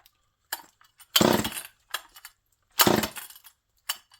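A Homelite chainsaw being pull-started on a cold day with the choke on, two strong recoil pulls with rattling cord bursts and a few lighter clicks and handling sounds between, no engine catching.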